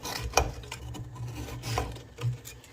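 A serrated knife saws and breaks up large undissolved sugar lumps in a pot while honey syrup is made. Close, repeated rasping and scraping strokes, with no talking.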